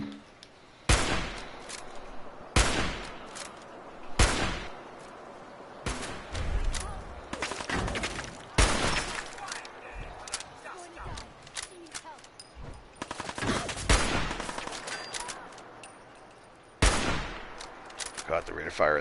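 Automatic gunfire in a video game comes in repeated loud bursts of rapid shots separated by short pauses, with a voice speaking at times between the volleys.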